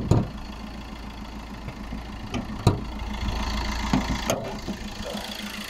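A Fiat Qubo Trekking's 1.3 CDTI chain-driven diesel engine idles with a steady low rumble, heard close up, broken by a few sharp clicks and knocks.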